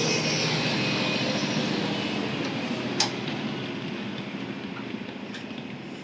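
A Muddyfeet Concrete Pumping truck pulls away from a barndominium concrete pour site in Files Valley, Texas, its broad engine rumble and road noise steady at first, then slowly fading as it rolls off.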